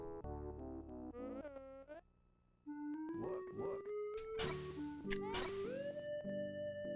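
Pac-Man 2: The New Adventures on Sega Genesis plays a cat's meowing as a series of loud, pitch-bending synthesized yowls that rise and fall, with bright bursts of game noise layered between them.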